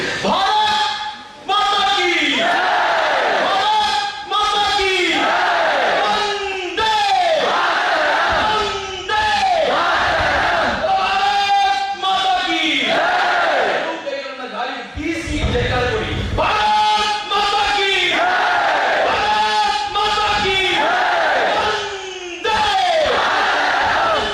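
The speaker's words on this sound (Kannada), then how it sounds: "ಒಂದು ಸಲ ಉಚ್ಚ ಕಂಠದಲ್ಲಿ ಕಂಠ ಬಿಚ್ಚಿನ ಜೊತೆ ಭಾರತ ಮಾತೆ ಜೈಕಾರ ಕೊಡಿ" A large crowd at a public talk shouting a patriotic chant in rhythmic, repeated loud roars, each burst rising and falling with brief gaps between, voices massed and near.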